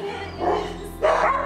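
Rescue dogs barking at a UK animal shelter, two short bursts of barks and yips close by with a steady background hum, no talk.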